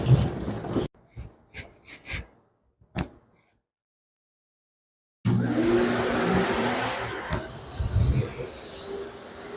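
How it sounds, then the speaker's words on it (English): A blow dryer runs on a wet Miniature Schnauzer at a grooming session, a steady broadband whoosh starting abruptly after a few short knocks and a silent gap, holding fairly loud with slight fluctuations. "I just use the blow dryer for a minute just to get all that water off"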